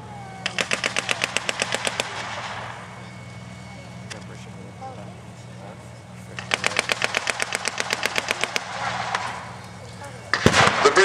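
Machine guns fire in long rattling bursts at a WW2 battle reenactment, two sustained volleys of rapid shots separated by a pause, with a sharp bang at the end; a narrator speaks throughout.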